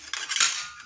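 Knife slicing through a crispy baked roll of phyllo (goulash) dough, giving a short dry crackling crunch that flares brightly for under a second, close and alone.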